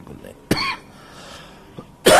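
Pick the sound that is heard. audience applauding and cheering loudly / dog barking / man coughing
man coughing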